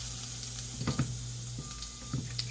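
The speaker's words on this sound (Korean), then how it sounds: "기름을 두른 프라이팬에 목이버섯을 볶아주시면 되는데" Wood ear mushrooms fry in an oiled pan with a steady close sizzle, broken by a few sharp pops and spits spaced a second or so apart, alone without talk.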